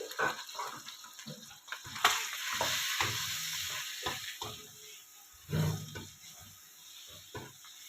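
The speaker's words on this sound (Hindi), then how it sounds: "इसको अच्छी तरह हमने फ्राई कर लेना है" Egg curry frying in a kadai with salt, turmeric and red chilli, soft sizzling with intermittent stirring and clanks of the spoon against the pan, fairly quiet and close.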